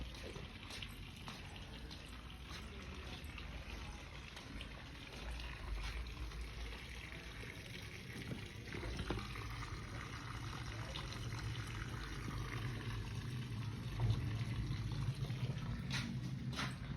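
Irrigation water runs across a home vegetable garden, a faint, steady flowing wash with a low rumble underneath, continuous and without talk.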